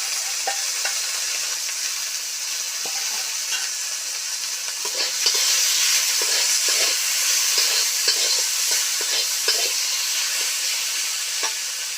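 Boiled bean seeds are tipped into a fish curry cooking in a pan. Steady sizzling and frying hiss runs throughout, with scattered stirring clinks and scrapes that grow slightly louder partway through.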